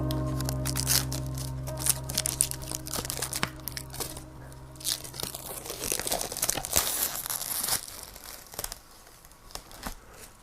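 Protective plastic film peeled off a HAIBOXING 16889 budget RC truck body, a close, steady crinkling and tearing run of dense crackles that thins out toward the end, with no talking.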